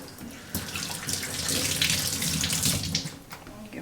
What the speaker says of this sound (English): Give my tomatoes a little rinse.